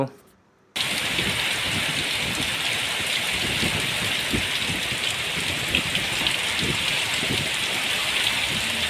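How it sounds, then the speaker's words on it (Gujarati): Steady rain falls on a farm, a dense, even hiss of drops on surfaces that begins after a brief quiet moment and continues unbroken at close range. "વરસાદ રોકવાનું નામ લેતો નથી મિત્રો રોજ સાંજે વરસાદ ટપકી પડે છે"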